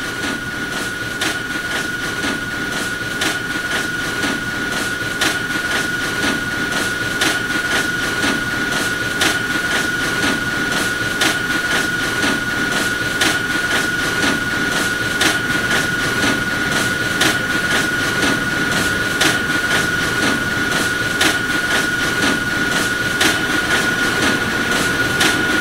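New York subway Q train running, a long steady loud roar of wheels and motors with a constant whine and regular clicking of rail joints, close and continuous throughout.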